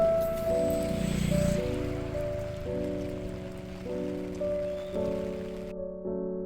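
Rain falls steadily outdoors on a walk to a yoga class, a soft continuous patter under sustained background music, with no voices.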